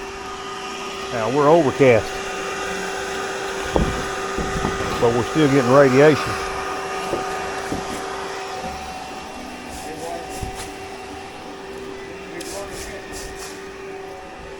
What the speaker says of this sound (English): The vacuum's still on.